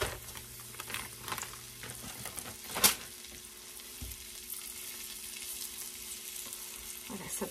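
Beef pieces fry in a pan for beef stroganoff, a steady close sizzle with an occasional sharp spit or clatter, no speech.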